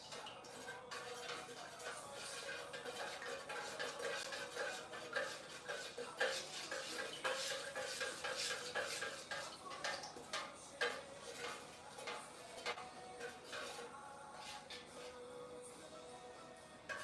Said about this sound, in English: Sure we stir it up really good. Get all the fragrance oils bonded to the wax.